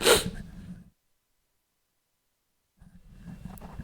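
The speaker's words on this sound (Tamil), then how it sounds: "சாரி தும்மல் வந்துருச்சு" A single sharp sneeze bursts out close and loud at the start, followed by a sudden cut to silence and then faint room noise.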